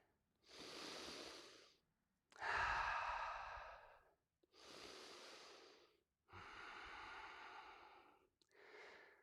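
A person breathes deeply during a power vinyasa yoga session, five long, close, audible exhalations and inhalations with short pauses between, each swelling and fading like a drawn-out sigh.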